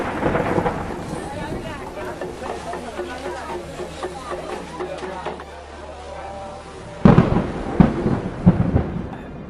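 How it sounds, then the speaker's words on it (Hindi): Heavy rain and rolling thunder over Kedarnath in the evening, a continuous downpour wash with a loud thunder crack near the end, under a narrating voice. "केदारनाथ में शाम ढल चुकी थी और बारिश अभी भी जारी थी।"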